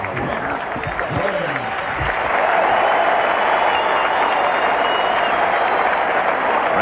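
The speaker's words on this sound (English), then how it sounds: "Round of applause for Dwight Gooden as he comes up now with 2 out." Shea Stadium crowd during the 1986 NLCS Game 5 between the Mets and Astros applauds Dwight Gooden coming to bat, a broad roar of clapping that swells after two seconds and holds under a broadcaster's voice.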